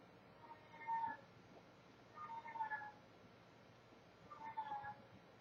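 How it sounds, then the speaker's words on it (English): A cat meows three times, long drawn-out cries spaced a couple of seconds apart, fairly faint against a quiet background. "sorry, roommate's cat."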